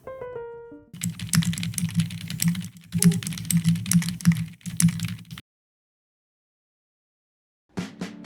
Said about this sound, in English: I love how this keyboard turned out. And of course, we have to do a sound test.